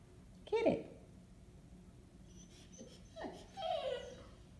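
A Boxer dog whimpers and yips in two short bursts indoors, with the whining rising and falling between pauses and a faint voice in the background.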